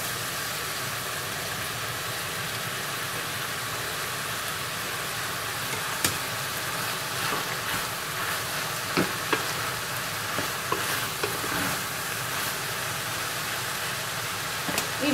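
Finely chopped eggplant fries in a pan with a constant, fairly quiet sizzle and occasional faint stirring clicks over a low background hum.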